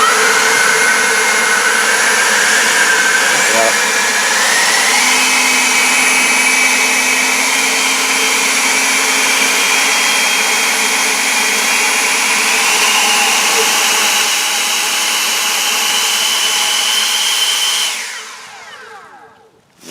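An EGO Power+ LB6504 battery leaf blower, rated 180 mph and 650 CFM, runs continuously at high speed as a loud, close, steady whooshing whine with slight pitch shifts, then spins down near the end.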